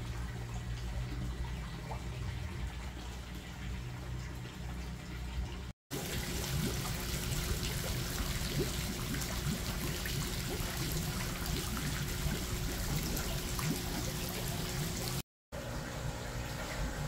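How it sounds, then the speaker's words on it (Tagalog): Water pouring steadily into a homemade tilapia aeration tank, a continuous close trickling splash with no talk, briefly cut twice. "Maglalagay tayo ng tubig."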